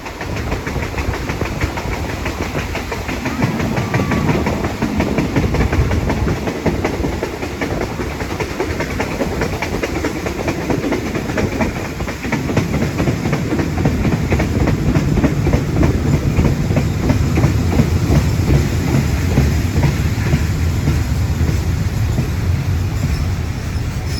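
Passenger train 445 runs between Lang Suan and Surat Thani in Thailand, heard from on board as a continuous loud rumble. Rhythmic wheel clickety-clack over the rails persists throughout.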